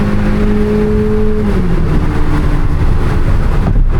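Loud, close exhaust roar from a 1064 hp C8 Corvette ZR1 during a night pull in downtown Chicago, a steady high-rev drone that drops in pitch as it shifts, filling the whole stretch.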